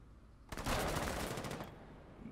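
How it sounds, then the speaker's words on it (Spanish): A rapid burst of automatic gunfire from a main weapon in Rainbow Six, a sharp rattling volley lasting about a second after a brief pause, with the rest of the clip quiet. "Miguel dice disparar con el arma principal."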